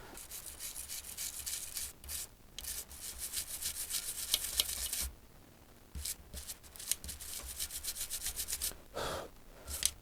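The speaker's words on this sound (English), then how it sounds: "I wonder if I had a little brush to give that a scrub" A small brush scrubs at the burnt, fire-damaged motor of a White Knight tumble dryer, giving bursts of close, dry rubbing and scratching strokes with brief pauses between them.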